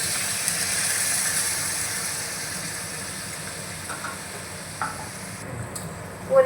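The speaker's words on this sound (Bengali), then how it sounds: "মিক্সিং জারটা দিয়ে জলটা দিয়ে দিচ্ছি" Fried pointed gourd masala simmers in a pan as water is poured in, giving a steady close hiss and sizzle with a few soft stirring clinks, and no one talks.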